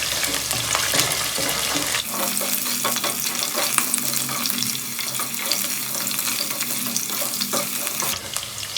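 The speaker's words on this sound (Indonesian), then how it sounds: "Ini kita tumis dulu sampai wangi." Spices sauté in a pan for a West Sumatran green-chili chicken dish (ayam lado mudo), with a steady sizzle and clinking stirring throughout, and a brief burst of running tap water at the start.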